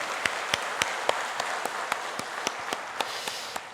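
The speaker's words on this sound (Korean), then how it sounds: "감사와 영광의 박수 한번 올려드릴까요?" A congregation at a Sunday service in Ulsan's Hogye Church claps in unison, sharp rhythmic claps evenly spaced over a soft background murmur.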